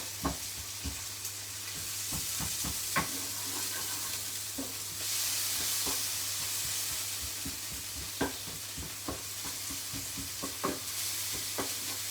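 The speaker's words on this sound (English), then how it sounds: "We're going in with our onions. We're just going to fry these for a minute." Onions frying in a hot pan for a salmon noodle soup, a steady sizzling hiss running throughout with repeated sharp scrapes and knocks of stirring, fairly close and without voices.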